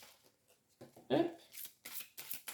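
Tarot cards riffled and shuffled in a brief burst of papery flutter, then soft card slaps as they are laid down, with someone speaking around them.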